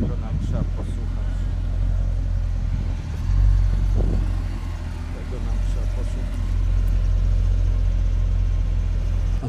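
A lightly modified Audi RS7 rumbles nearby with a deep, steady engine drone that swells briefly, while people talk over it.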